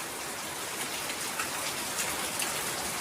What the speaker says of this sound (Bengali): আবার মুষলধারে বৃষ্টি নেমেছে।